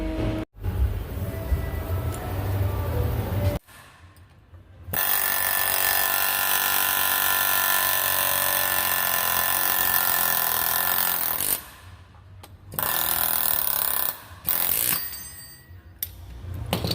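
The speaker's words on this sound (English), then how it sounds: "I'll go ahead and get that bushing out of there" Loud, rapid Aircat pneumatic air hammer knocking a bushing out of a Ford Transit driveshaft coupling, in sustained bursts, stopping and starting several times with brief pauses between runs.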